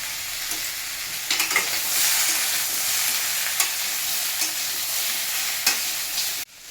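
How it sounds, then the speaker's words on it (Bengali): Salted vegetables frying in a pan give a close, steady sizzle with the scrape of stirring and a few sharper clicks, running unbroken before stopping abruptly at the end. "নুনটা দিয়ে ভাজতে ভাজতে সবজিগুলো একটু সেদ্ধ হয়ে যাবে।"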